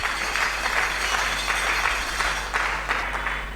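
A church congregation at a Sunday service applauds in a steady, dense patter of many hands over a constant low hum, moderately loud and without a break.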